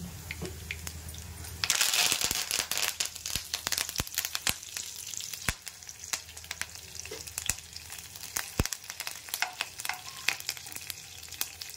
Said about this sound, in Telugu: ఈ కరివేపాకు చిట్పట అన్నాక వీటిని వేసేసుకుందామండి